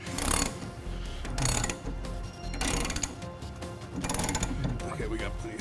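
A coil spring compressor tool being tightened, with repeated mechanical ratcheting bursts in an uneven rhythm, close and moderately loud, with occasional voices in the background.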